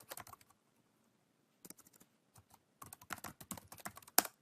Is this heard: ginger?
no